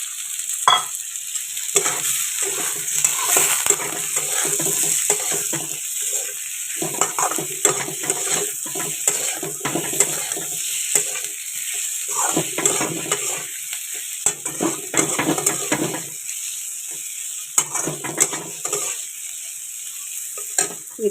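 Fried potatoes stirred in a hot pan spiced with Kashmiri chili powder and salt, sizzling steadily with repeated scraping and clattering stir strokes, close and fairly loud, with no talking.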